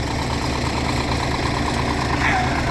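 Tractor engines idle to warm up before ploughing, a loud, steady low rumble that runs throughout without a break.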